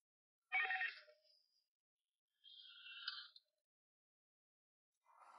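A telephone ringtone sounds in two separate bursts about a second long each, with a pause between them, as a call is placed. It is moderately loud and close, with silence around it and no talk.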